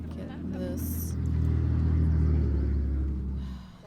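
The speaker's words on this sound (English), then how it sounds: "That was a pickup truck." A pickup truck driving past on a busy road, its loud, low engine rumble swelling as it nears and then fading away over a few seconds.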